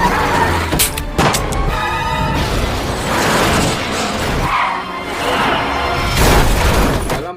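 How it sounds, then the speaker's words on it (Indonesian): Gunfire rings out during a shootout between Hong Kong police and terrorists in the 2012 action film Cold War, with loud, dense bursts of shots and crashing impacts repeating throughout amid a busy, cinematic mix. "Dalam baku tembak itu,"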